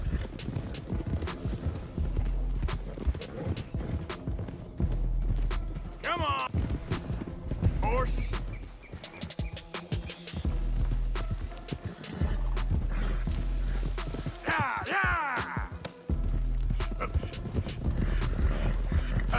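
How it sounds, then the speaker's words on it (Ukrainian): Hooves clatter in a rapid galloping rhythm, mixed with a horse's whinny and music, with brief voices in the background, from horses in the video game Red Dead Redemption 2. "коні почали бігти галопом"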